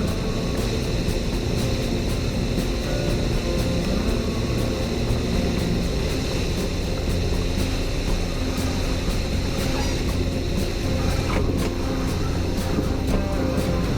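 Light aircraft touching down at Montgomery County Airport in a quartering crosswind, a steady loud drone of engine and rushing wind running unbroken throughout with a faint rumble of rolling on the runway.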